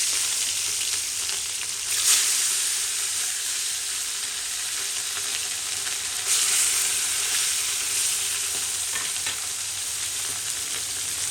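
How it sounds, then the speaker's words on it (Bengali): Pieces of rohu fish crackle and sizzle as they fry in hot oil, making a dense, even hiss throughout, with a couple of brief louder spatters and no voices. "এইভাবে মাছগুলো আমি ফ্রাই করে নেব।"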